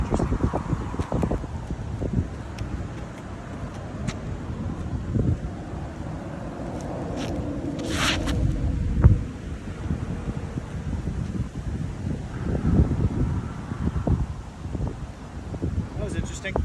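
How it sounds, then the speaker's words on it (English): Strong wind buffets the microphone in steady gusts and rumbles on a golf course, with scattered voices and bumps now and then. "So windy out here."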